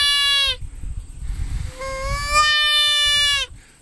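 Two drawn-out, soft bleating calls from a handmade mule deer call, each rising then falling slightly, separated by a short gap, close by.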